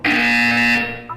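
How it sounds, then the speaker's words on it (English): Single loud electronic buzzer from the video game Portal 2, a harsh, steady tone lasting about a second before cutting off. "You will hear a buzzer."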